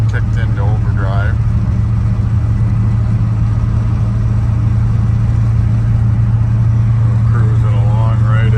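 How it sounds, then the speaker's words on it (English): 1986 Chevrolet C10 pickup truck cruising near 65 mph in overdrive, its engine a steady low drone with road rumble filling the cabin throughout, while someone talks over it at the start and end. "Cruising along right at 65 miles an hour almost, so it does go down the road good."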